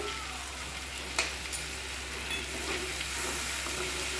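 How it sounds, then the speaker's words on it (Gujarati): Red chilli powder stirred into a sizzling potato and onion curry in a pan, a steady, fairly quiet fry with occasional spoon scrapes, close and continuous without speech. "1 ટેબલસ્પૂન લાલ મરચું એડ કરશું. મિક્સ કરી લઈએ."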